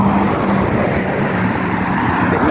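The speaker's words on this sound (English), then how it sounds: "A bit noisy with the road." Road traffic noise beside a busy road lined with car dealerships in Northfleet, a continuous loud rumble and hiss of passing vehicles close by, with some wind on the microphone.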